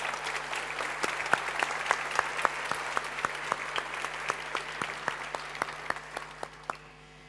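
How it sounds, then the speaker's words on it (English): Audience applause at a startup demo day, a dense bed of clapping with several sharp, close individual claps standing out rhythmically, gradually fading toward the end. "let's warm them up with a round of applause just before"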